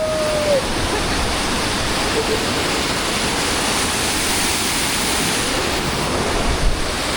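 Mountain waterfall in the wild near Paraty, Brazil, roaring steadily and close, a dense unbroken rush of falling water filling the whole stretch with no pauses.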